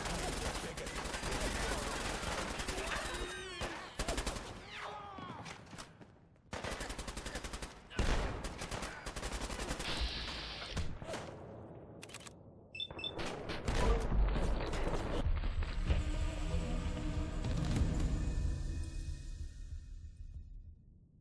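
Gunfire in the video game Fallout London: dense bursts of automatic and single shots crack loudly through most of the stretch, with booms and battle clatter, and voices speak intermittently amid the shooting.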